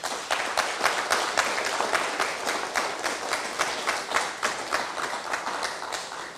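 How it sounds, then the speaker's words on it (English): Audience at a stakeholder open forum claps after candidate introductions, a modest crowd producing a steady patter of individual hand claps with some distinct rhythmic strikes, moderately loud and sustained throughout. "Let's give them a round of applause."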